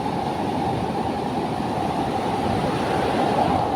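High ocean waves at Bolinao Beach, Pangasinan, roar in a constant, loud wash of surf close by, with no break in the rumble.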